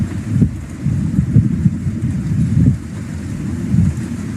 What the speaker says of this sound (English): The wind always answers me and speaks with me during these videos, I swear.